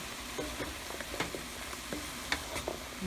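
Homemade detox soup of onions, garlic, peppers, carrots, celery, mushrooms and seasonings cooking in a pot, giving a soft, steady sizzle broken by scattered light clicks and taps, close and moderately quiet with no talking.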